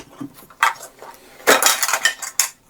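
Camping cookware rattles and clinks in a short series of bright metallic knocks: nested pots, a frying pan, a folding spork and a ladle jostling together close by, in irregular bursts with brief pauses.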